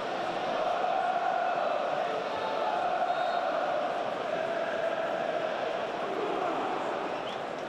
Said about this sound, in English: Crowd sing Abdullah Barr's song, as you would expect